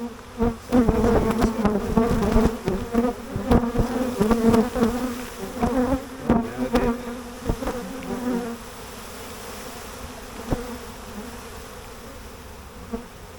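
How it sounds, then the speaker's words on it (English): Dense buzzing of many bees, loud and close at first, with overlapping drones and intermittent thumps, thinning to a steadier, softer hum toward the end. "you can see quite a few bees are out."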